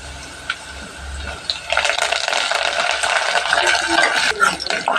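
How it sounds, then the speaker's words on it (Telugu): Curry leaves hit hot tempering oil with cut green chilies while cooking tomato brinjal dal; after a quiet start, a loud, steady sizzle bursts up and keeps crackling for the rest of the clip. "కరివేపాకు వేసుకుందాం."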